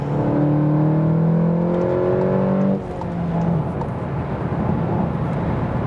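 A VW Golf GTI Clubsport with 265 hp accelerates hard onto the Autobahn, engine revving upward loudly through a gear, then a shift cuts the note as wind and road roar take over.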